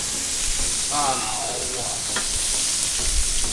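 Grouper fillets sizzle in butter in a large pan, giving a steady dense hiss of frying with soft stirring movements and a brief faint voice in the background.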